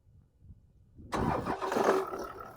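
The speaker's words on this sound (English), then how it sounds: "And you start the engine." A car engine cranks and catches after a jump start from a portable power pack, a loud abrupt burst of engine noise that runs on roughly and unevenly, near and alone.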